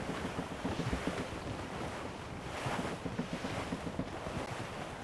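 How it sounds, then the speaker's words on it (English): Rough squall at sea in a sailing video game: steady roaring wind buffets the microphone while heavy waves surge and slap against the ship's hull in repeated low thumps. "Careful! That's quite a rough squall"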